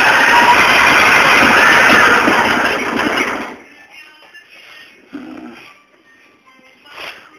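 Mud mower fitted with a non-original engine roars loudly at high revs for about three seconds, then cuts off sharply and falls to faint low knocks and rustles.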